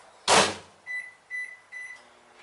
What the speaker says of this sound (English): throw it in the microwave for 30 seconds